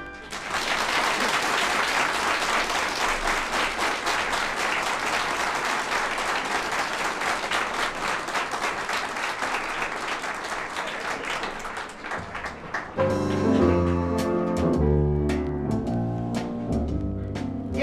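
An audience at a German cabaret show claps steadily and densely for about twelve seconds, then the applause gives way to music with a clear tonal melody.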